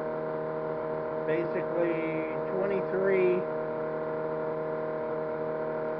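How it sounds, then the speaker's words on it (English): A small electric motor runs at its maximum speed of about 2300 RPM, giving a steady, close whining hum with layered tones that holds for the whole stretch while someone talks briefly in the middle. "now that's running at max speed for this little motor here"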